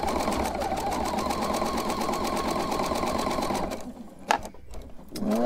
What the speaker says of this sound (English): I'm just going to tuck it down in between and then just sew right over it